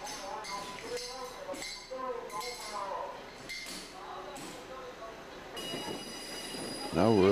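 A train pulls out from track one at Havana Central Station, with rumbling wheels, metallic clinks and squeals over rails, and a louder burst near the end, while speech runs underneath.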